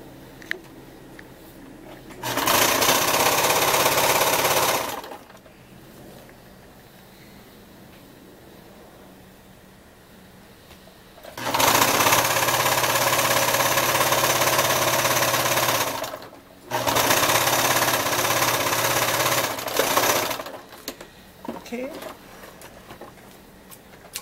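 A sewing machine stitches turtleneck fabric in three loud, fast whirring runs of a few seconds each, close by, with quiet pauses between them and a person talking in the gaps.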